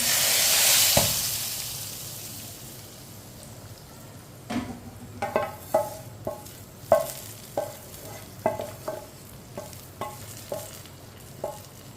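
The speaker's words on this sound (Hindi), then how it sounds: "तड़का हम दाल में डालेंगे।" A sharp sizzling burst as hot oil hits the lentils, fading quickly, followed by a series of stirring scrapes and taps.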